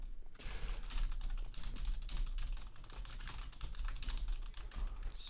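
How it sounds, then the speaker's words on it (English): Rapid typing on a computer keyboard, a dense, continuous patter of close key clicks with small pauses, steady for several seconds with no talking. "I'm typing as quickly as I can"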